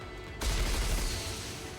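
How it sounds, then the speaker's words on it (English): A barrage of missiles fires from Vesti's back in the game Goddess of Victory: NIKKE, a sudden loud burst of rapid blasts that rumbles on and slowly fades, with no talk. "A barrage of missiles launched from Vesti's back."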